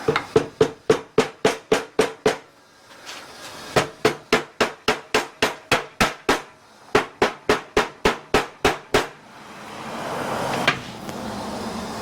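A hammer taps the dowel pins on a Briggs and Stratton flat head engine during a rebuild, rapid sharp metallic strikes in quick runs broken by short pauses, followed by a softer scraping rustle.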